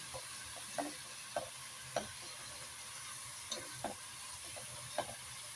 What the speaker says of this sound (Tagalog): Brown lang natin yung karne.